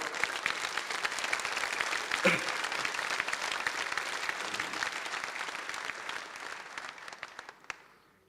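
Audience applause rises after a political speech, a sustained wash of many clapping hands, steady and fairly loud, tapering off at the end.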